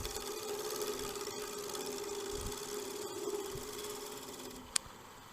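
A wood lathe turns a wet wooden vessel with a steady, continuous mid-pitched motor hum and whir. One sharp click sounds near the end.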